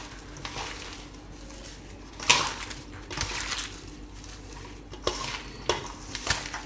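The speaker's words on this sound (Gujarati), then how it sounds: "એકદમ હાથથી મિક્સ કરી લેવાનું આ રીતના, એટલે મસાલો બધાયમાં ચડી જાય." Hands mixing gram flour batter with chopped vegetables for bhajiya in a bowl give soft, wet squelching and stirring with occasional sharp clinks against the container, steady and close with no talk.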